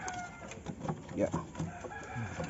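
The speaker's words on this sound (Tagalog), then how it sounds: "Ito yung ating unang tandang." A red junglefowl rooster crows faintly in an outdoor setting, the call short and somewhat distant under low background noise.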